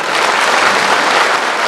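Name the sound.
audience applause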